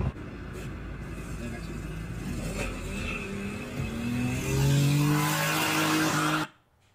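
A car pulls away from a tow truck, its engine revving hard and tires squealing as it speeds off, with voices talking over the commotion before the sound cuts out abruptly.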